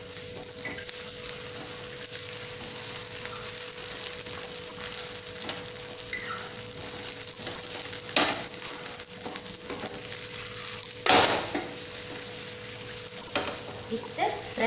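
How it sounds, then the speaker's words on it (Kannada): A no-dough paratha fries in oil in a pan with a continuous soft sizzle, with occasional louder clatter and scraping as it is pressed and turned. "ಇತ್ತೆ ಪ್ರೆಸ್ ಮಲ್ತು ಫ್ರೈ ಮಲ್ಪೊಡು ಇಂಚ"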